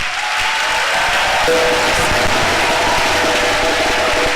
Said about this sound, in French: si vous aimez Bishop et sa femme, je voudrais qu'avec moi vous acclamiez